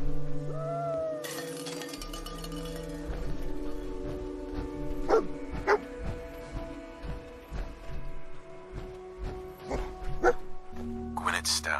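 Dogmeat, the dog companion in the Fallout video game, gives a few short barks and yips amid game music and ambient sound effects, with someone talking over parts of it.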